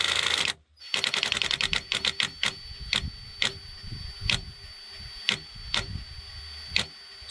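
Impact wrench spinning a socket on a 1988 Mustang, a run of rapid rattling hammer bursts that slow into spaced, separate impacts, close and fairly loud with no talk.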